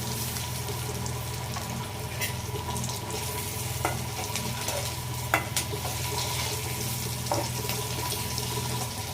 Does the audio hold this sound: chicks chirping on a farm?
no